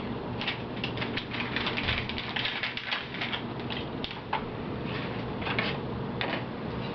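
Scissors cut open a cookie dough package in a rapid series of crisp snips and plastic crinkles, close and fairly loud, with no talking.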